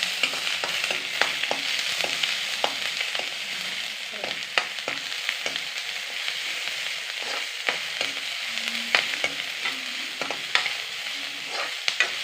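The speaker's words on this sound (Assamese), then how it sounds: "আৰু লগতে আদা নহৰু বটি থৈছিলোঁ এইখিনি দি দিলোঁ, লগতে জলকীয়াখিনি দি দিলোঁ। দি এতিয়া মই সেইখিনি ভাজি ল'লোঁ।" Ginger-garlic paste and green chillies fry in a pan with a steady, close hiss of sizzling oil, broken by frequent sharp scrapes and clicks of a spoon stirring against the pan, with no one speaking.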